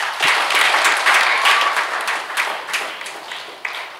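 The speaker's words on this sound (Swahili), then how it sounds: "Tumpigie makofi." Congregation at a Sunday Mass applauding the priest, a dense burst of many hands clapping that starts strong and gradually thins and fades over a few seconds, with no talk over it.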